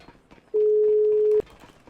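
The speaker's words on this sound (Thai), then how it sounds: "เคียเวทไม่รับโทรศัพท์กูนะไอสัตว" An unanswered phone call in the GTA V video game sounds as a single steady electronic ring tone lasting just under a second, clear and alone over faint background sound.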